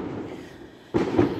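Fireworks burst in the distance, a faint low rumble suddenly rising into a louder booming crackle partway through, with no voices.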